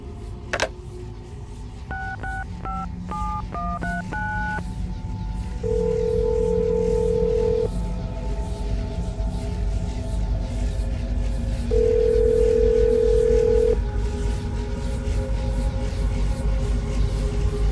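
A telephone is dialed in the video game Assassin's Creed Brotherhood: a quick run of keypad tones, then two long, even ringing tones separated by a quiet gap, over a low hum.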